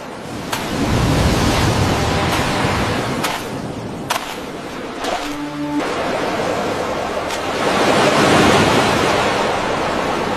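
Sea waves rolling onto the shore at Puri, a steady loud wash of surf with rising and falling swells and occasional faint tonal sounds over it.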